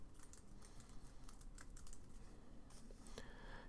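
Fast, steady typing on a computer keyboard, entering a presentation name: a quiet, continuous patter of light key clicks with no pauses.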